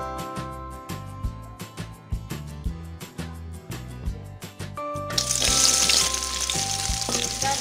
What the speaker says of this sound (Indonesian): Kita tumis dulu bahan-bahan ini.